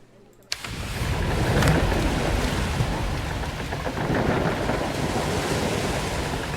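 Ocean surf washes steadily on a frigate leaving harbor in the game Lovecraft Quest, beginning abruptly after a short quiet moment and rolling on loud and continuous with a broad, stormy rush.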